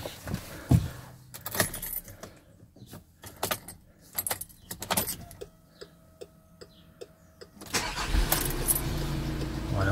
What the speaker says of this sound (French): donc mise en marche du véhicule